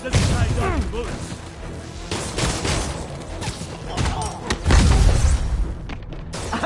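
Gunfire in a Spider-Man video game, rapid bursts and heavy booms rattling close by, interleaved with shouted voices and impacts, loudest near the end.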